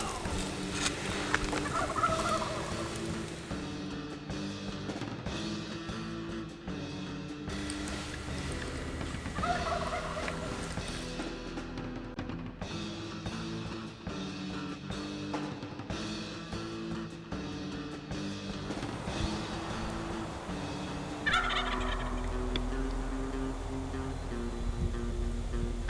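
A wild turkey gobbles during a hunt in Northern Arizona, with rattling calls repeating several times at moderate distance over a steady outdoor background hum.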